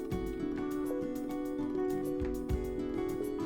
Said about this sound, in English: And another layer of beep boop beeps.